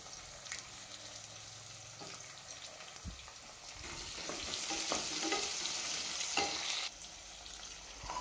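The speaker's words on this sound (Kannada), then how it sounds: "ನಾನು ಕ್ಯಾಪ್ಸಿಕಮ್ ಹಾಕ್ಕೊಳ್ತಾ ಇದ್ದೀನಿ. ಕ್ಯಾಪ್ಸಿಕಮು ಶಾಲೋ ಫ್ರೈ ಆದರೆ ಸಾಕು." Capsicum shallow frying in oil, a steady close sizzle with scattered stirring clicks and scrapes of a spatula, growing a little louder midway before settling, with no voices.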